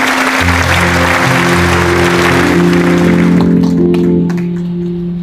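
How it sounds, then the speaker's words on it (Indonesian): Wedding guests at a Bali reception in Tegal Jaya give loud, lively applause over sustained music. The clapping thins out after about three seconds while the music carries on. "Kita berikan tepuk tangan yang meriah"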